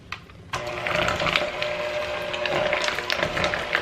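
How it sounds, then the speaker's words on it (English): An electric mixer starts abruptly and runs at a steady whirring drone as it beats a cheesecake filling, with soft rattling and tapping from the beaters against the bowl. "I have my electric mixer and I'm just gonna beat this up."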